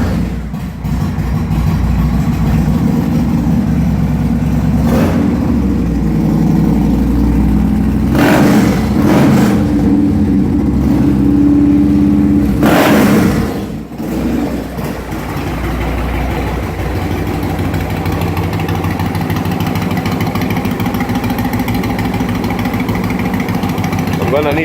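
A Yamaha Warrior 1700 motorcycle engine runs close and loud, idling with a deep rumble and rising in a couple of brief revs near the middle before settling back to a steady idle.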